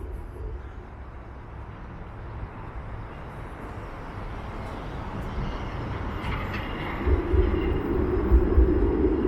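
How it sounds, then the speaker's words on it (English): A Bathurst streetcar on Toronto's 511 route rolls past, a steady low rumble that swells louder near the end, with faint higher rail squeal over street ambience. "The 511 Bathurst streetcar."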